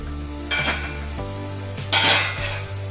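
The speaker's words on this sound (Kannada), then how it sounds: "ನೋಡಿ ಇವಾಗ ಆಲೂಗಡ್ಡೆ ಎಲ್ಲ ನೀಟಾಗಿ ಫ್ರೈ ಆಗೈತಿ" Potatoes fry on a low flame in a pan for a sabudana snack, with a steady soft sizzle, a faint hum and two louder bursts of stirring and scraping.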